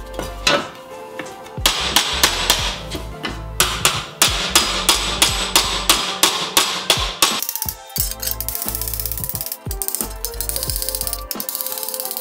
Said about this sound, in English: we can use this block of wood that I've just made a little dish in and one of the curved hammer heads